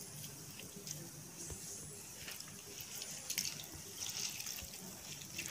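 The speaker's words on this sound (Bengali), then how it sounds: "আমি এগুলোর জলটা ঝরিয়ে নিচ্ছি, জল যাতে না থাকে।" Water drains from boiled green chillies in a home kitchen, a soft steady trickle and splash with scattered drips running for several seconds, fairly faint and close.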